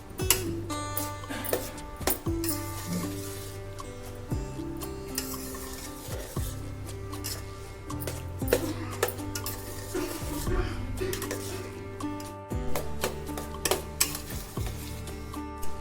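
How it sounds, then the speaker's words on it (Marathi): Khoa for carrot halwa is stirred in a metal pan, repeated scraping and clanking of a spoon against the pan in an uneven rhythm, with a faint sizzle underneath. "आता सर्व मिक्स करून घ्यायचं आहे आपल्याला"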